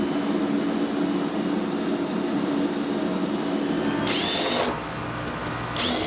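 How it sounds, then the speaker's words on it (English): A power drill drives screws through a blackened ash surface into the underside of a shuffleboard frame, a steady close, loud whine that cuts off near the end and starts again. "So we're screwing this blackened ash surface into the underside of our frame"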